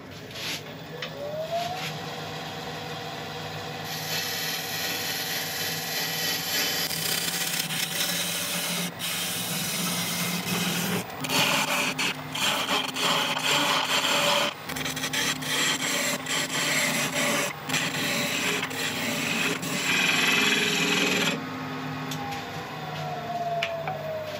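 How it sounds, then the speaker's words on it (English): Skew chisel scraping a spinning greenheart and purpleheart mallet on a wood lathe, a steady rasping rub with a humming motor, the lathe spinning up at the start and winding down at the end. "I ended up going in with a skew just to try and even up this surface"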